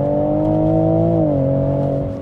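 A 400bhp Evolve-tuned Toyota Supra engine holds a steady, close droning rev on the throttle, its pitch dipping slightly partway through.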